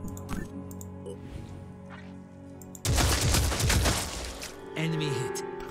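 Burst of gunfire in the turn-based strategy game Phoenix Point, a loud dense crackle of rapid shots lasting a couple of seconds, with game ambience before and a tonal effect after.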